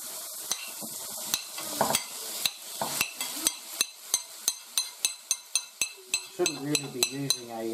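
Steak, onions and garlic fry and are stirred with a metal spoon in a wok, with a sharp, steady rhythm of clanks against the pan over a constant sizzle and someone talking intermittently.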